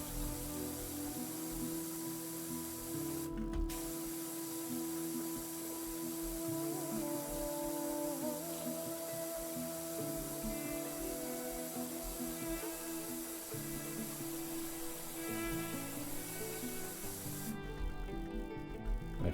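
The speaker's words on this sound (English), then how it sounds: "me spraying it with a pressure washer" Pressure washer spraying in the video game PowerWash Simulator 2, cleaning a floaty at a gator-themed coaster: a steady, fairly quiet hiss runs throughout with no pauses.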